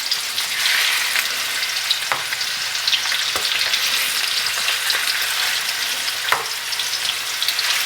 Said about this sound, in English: Just take your lamb chop and just put it in like that.